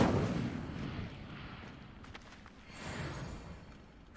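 An Incendio fire spell blasting in the Hogwarts Legacy video game: a broad rumbling burst opens loud, then settles into a crackling, roaring wash that swells again before a sharp hit at the end, with no talk.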